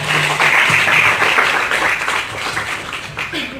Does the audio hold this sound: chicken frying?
no